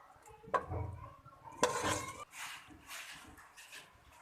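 Chicken korma is served from a cooking pot into a dish with two sharp metallic clanks of the spoon against the pot, separated by soft scraping and shuffling. The sounds are fairly quiet and close.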